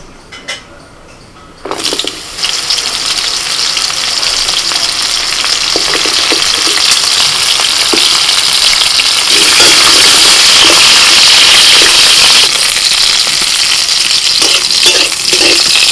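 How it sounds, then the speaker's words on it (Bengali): Pointed gourd (potol) pieces drop into hot oil after a brief quiet moment, then fry with a loud, continuous sizzle and occasional stirring, steady and close throughout. "প্রথমে পটলটা ভেজে নেব।"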